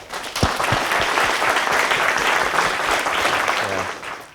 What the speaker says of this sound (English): I think we should give Fadel a big applause